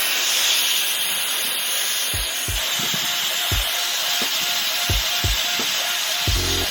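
A handheld blow dryer runs steadily to warm and loosen 3M adhesive tape on an FRS car, giving a continuous airy hiss throughout, with scattered low knocks and clicks underneath.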